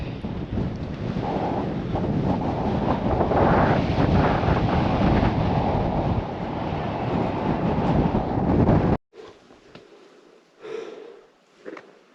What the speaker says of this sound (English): Oh, it's still very windy.